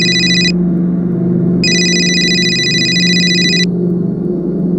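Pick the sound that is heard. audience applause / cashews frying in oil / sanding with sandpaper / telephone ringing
telephone ringing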